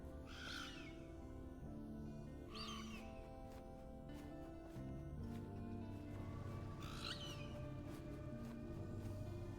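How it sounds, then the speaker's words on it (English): Bird call from the video game Last Epoch, a few short hooting chirps repeating every couple of seconds over steady layered game music and ambience. "Here's the bird noise."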